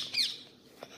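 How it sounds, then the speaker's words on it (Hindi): A pet parrot gives one short, shrill squawk, followed by a faint brief chirp against a quiet background. "ये वाला तोता बहुत अच्छा है, ये आवाज़ भी कर रहा है बहुत"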